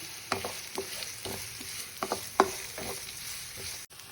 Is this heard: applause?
no